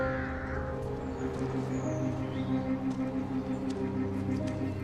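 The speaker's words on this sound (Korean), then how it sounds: "까마귀 떼가 머무는 곳을 따라가 동물의 사체를 챙기기 시작하는 루카스." Crows gather in a flock, giving a few distant, faint caws over a steady low background drone in an outdoor setting, with no talking.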